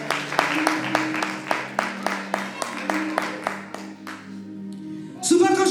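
A church congregation claps in a steady rhythm, sharp hand strikes repeating about three times per second over sustained singing and music, ending in a louder burst of crowd noise.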